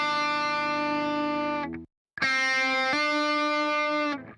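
A distorted electric guitar sustains a buzzing note, cuts out briefly, then rings again, a second note sounding midway as a finger hammers onto the string.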